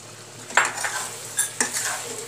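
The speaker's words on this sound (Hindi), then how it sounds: "अब इसमें हम पनीर भी डाल देंगे ऊपर से। थोड़ा सा गरम मसाला" Paneer and garam masala stirred into cooked vegetables in a pan, a few scraping spoon strokes and metallic clinks over a soft sizzle, close, with no talking.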